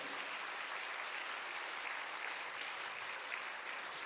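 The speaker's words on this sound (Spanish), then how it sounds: "Dele un aplauso ahí al Señor." A church congregation applauds during a sermon, a dense, steady wash of clapping from many hands, heard from a distance without a break and with no talking.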